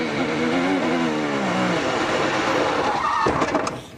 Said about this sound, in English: he's doing all he can to try and drift it through and avoid.